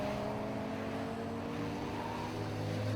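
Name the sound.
Porsche race cars driving through turn 1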